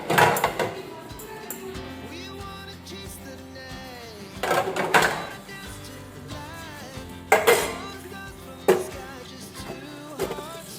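Metal pots and dishes being washed clink and clatter in a few sharp bursts amid steady kitchen handling, with no talking.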